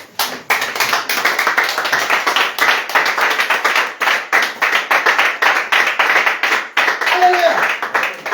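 A church congregation at a revival gathering in Bondoukou, Côte d'Ivoire claps hands in a fast, steady rhythm. The clapping is loud and continuous, with voices mixed in underneath.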